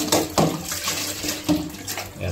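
Water splashing and running in a bathroom as a printed car magnet is dunked and moved around, with bursts of sloshing over a steady tap-like flow, close and moderately loud.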